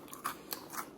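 Homemade granola made with sourdough discard is bitten close to the mic, giving three crisp crunches spaced about a quarter second apart. They are quiet and come in near silence.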